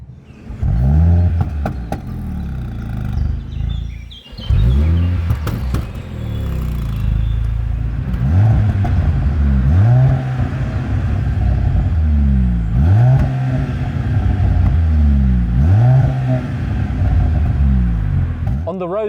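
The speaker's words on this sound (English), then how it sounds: "press the engine button, then hold one of the paddles, and you'll get a more interesting startup." A 2023 Mercedes-AMG C43 starting up with AMG Motion Start, held paddle and engine button, giving a loud close-up crank and repeated rising revs that settle into a steady idle rumble, with no talk over it.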